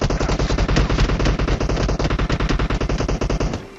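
Rapid automatic gunfire in the mobile game PUBG Mobile, a loud, dense stream of shots fired from nearby houses, cutting off just before the end.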